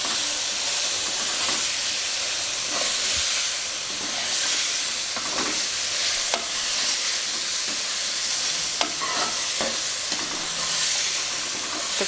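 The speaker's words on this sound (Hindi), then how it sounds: "आलू अच्छी तरह मिक्स कर लें।" Potatoes frying in a pan for a potato and cauliflower curry, stirred steadily with a spoon: a constant close sizzle and hiss with scattered scraping clicks of the utensil, no talking.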